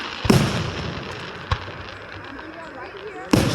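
Fourth of July fireworks burst outdoors in three sharp booms, one near the start, a smaller one mid-way and another at the end, with crackling between and people talking over the display.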